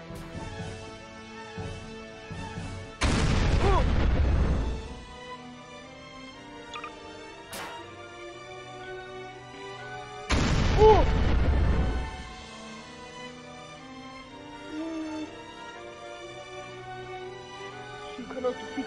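Two loud, broad blasts of laser fire in the Garry's Mod video game, each lasting about two seconds and separated by a quieter game backdrop.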